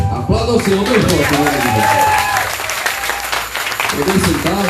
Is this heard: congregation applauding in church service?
yes